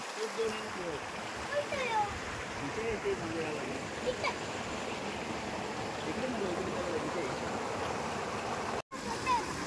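Water flows steadily near a village, a continuous broadband rush with a faint splash or two, fairly close and filling the whole stretch.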